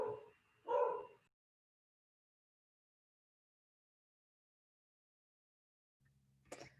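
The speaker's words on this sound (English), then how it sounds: "My dogs are going to start barking." Pet dogs bark twice at home, a short near burst right away, then a long silence before a faint yip at the very end.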